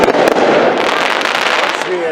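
Fireworks going off over a suburban neighborhood in dense, continuous crackling bursts that stay loud throughout, with a few sharper pops at the start and people talking underneath.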